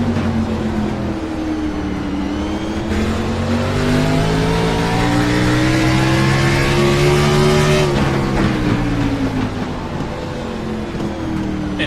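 NASCAR race cars at Martinsville Speedway on a Friday night, engines roaring loudly and continuously as they rise and fall in pitch through the corners, several cars overlapping close by with no talk over them.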